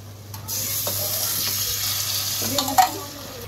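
A spoon stirs boiling potatoes in a cooking pot: steady bubbling and simmering hiss with a few soft scrapes and knocks near the end, close and fairly quiet, with no talking.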